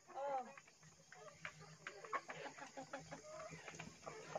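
Chickens in a small backyard poultry farm in Leyte cluck repeatedly in short, irregular bursts, moderately close but fairly quiet, with a brief louder call near the start and faint background hum.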